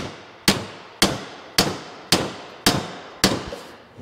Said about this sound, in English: I'm gonna try a bigger steel hammer.